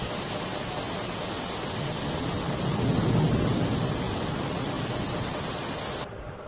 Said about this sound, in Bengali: সুন্দর করে ধারে বৃষ্টি হচ্ছে মুসুল ধারে